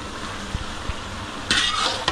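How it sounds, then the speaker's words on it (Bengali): Food frying in a home kitchen pan while a large spatula stirs it: a steady sizzle broken by a few scraping knocks, then a louder burst of stirring near the end, with no talking. "এটা এখন নাড়তে হবে, বড় খুন্তিটা করবি। এইটা দিয়ে নাড়ি"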